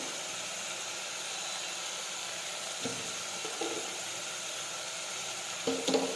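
Black-eyed pea curry sizzles steadily in a pan, a constant hissing fry with a few soft stirring knocks near the middle and end, no talking.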